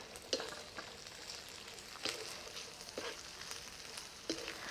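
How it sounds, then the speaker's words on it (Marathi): Shelled green peas sauté with softened onion in a pan for pea paneer pulao, a faint low sizzle broken by several sharp scrapes of stirring. "आता त्यात आपण जे सोलून घेतलेले वटाणे आहेत ते टाकून घेऊया ते पण एक दोन मिनटं छानपैकी परतून घेऊ"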